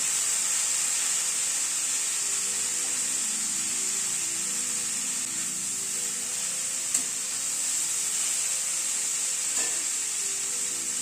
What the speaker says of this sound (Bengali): সবজিটাকে এবার একটুখানি ভাজা ভাজা করে নেব।